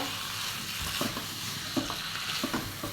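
Chicken masala stirred in a hot pan, a steady sizzle of frying with a few scraping knocks of the spoon against the pan, close and unbroken, with no talking.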